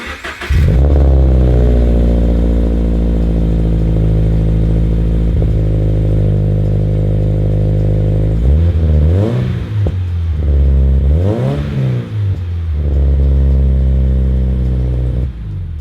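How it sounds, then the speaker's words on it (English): A Scion FR-S engine idles with a deep, throaty rumble through a newly installed exhaust, then revs up sharply twice and settles back, loud and close. "Let's go ahead, fire it up, and see what it sounds like"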